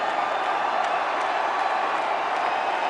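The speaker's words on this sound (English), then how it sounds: "The crowd getting happy." Stadium crowd at a cricket Test match roaring and cheering as a batsman nears a double century, a dense, loud, sustained wash of noise with faint whoops on top.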